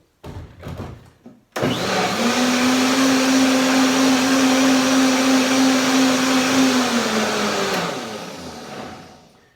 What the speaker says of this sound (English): if you blend a little bit longer and it gets warm